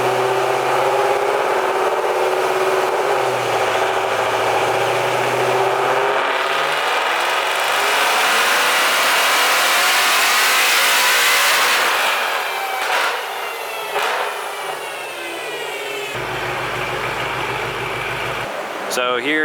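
A Ford Coyote V8 car on a dyno, running at a sustained loud engine roar whose pitch sweeps upward through a pull before dropping back to a low idle rumble, with a voice talking over part of it.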